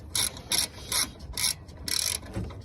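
A ratchet loosens 13 mm bolts on the radiator fan assembly of a 2008 Jeep Patriot, giving five or six rapid, raspy clicking strokes in a steady back-and-forth rhythm, close and alone.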